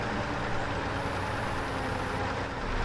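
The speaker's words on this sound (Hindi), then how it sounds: "ये देख लो भाई ट्रक की आवाज़ देखो," Heavy logging truck engine in a driving video game, a steady low loaded drone held at full effort throughout with no pauses, loud and close.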